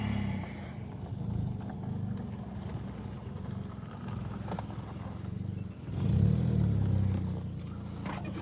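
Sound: Seat Ibiza 2009 1.6 petrol car driving

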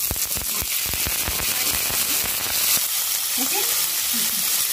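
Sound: onion sizzling in frying pan

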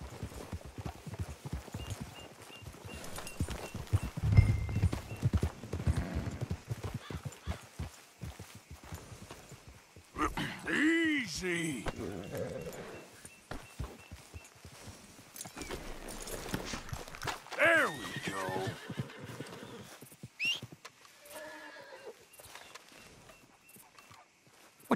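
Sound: horses walking and neighing in the video game Red Dead Redemption 2

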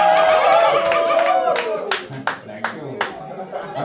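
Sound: audience clapping

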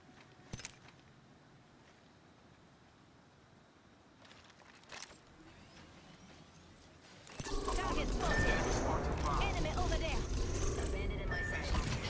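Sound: care package dropping in the video game Apex Legends

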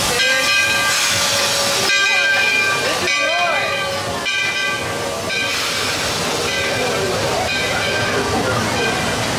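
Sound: Disney World Magic Kingdom train ride

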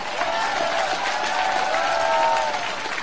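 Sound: crowd clapping at political rally

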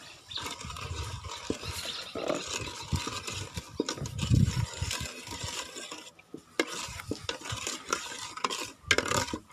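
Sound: stirring coconut milk to dissolve sugar in a pot

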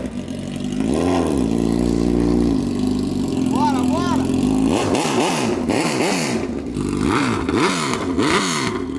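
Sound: motorcycle engine revving without exhaust

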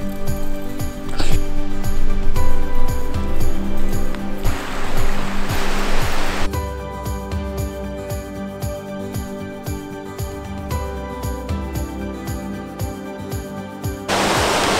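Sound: creek flowing along Falls Creek Falls Trail

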